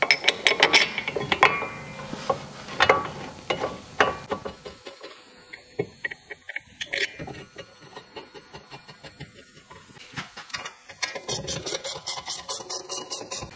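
A ratchet clicks while tightening brake caliper bolts on a Porsche Boxster, with scattered clicks and clanks early on and a steady run of ratchet strokes toward the end.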